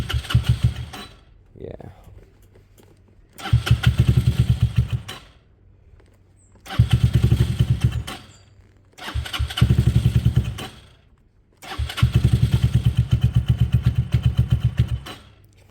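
A Benelli motorcycle engine catches and runs in repeated loud bursts of roughly two seconds, cutting out to quiet between attempts while a voice speaks briefly in the gaps.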